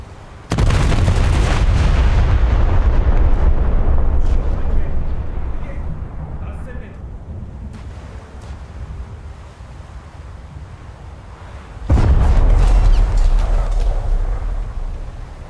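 American 16-inch battleship guns fire in a naval video game, two heavy booming salvos whose rumble lingers and fades between them, loud and close, while a voice talks over the battle.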